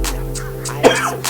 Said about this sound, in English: we have to cough.